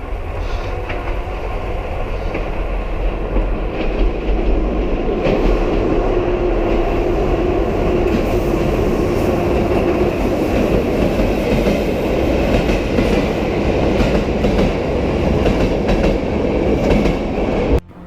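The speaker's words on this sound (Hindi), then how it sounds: "कोई ट्रेन तेज गति में उनकी तरफ आ रही है" A train rushes at high speed through a tunnel, a loud, steady roar of wheels and rumbling carriages that fills the whole stretch without letting up, with faint clacking on top.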